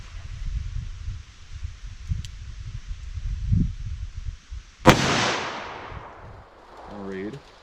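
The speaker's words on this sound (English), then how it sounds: "Now let's try the 44 Magnum and see how that compares." A single sharp, loud crack of a .44 Magnum handgun firing soft point hunting ammunition outdoors, preceded by rustling and low handling noise, with the blast ringing out and decaying over a couple of seconds.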